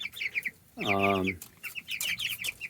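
Chickens cluck inside a mobile chicken tractor pen: a close run of quick, choppy clucks broken by one louder, drawn-out call in the middle, then more clucking.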